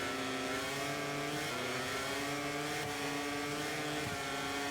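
Honda racing motorcycle engine in the video game MotoGP 24, a loud sustained high-revving whine with steady harmonic tones that shift pitch slightly as the bike accelerates and eases off, no voices.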